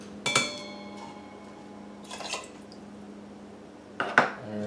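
A utensil stirs rice and water in an Instant Pot's metal inner pot, producing a few scraping clinks in three separate short bursts, close and clear, with quiet pauses between them.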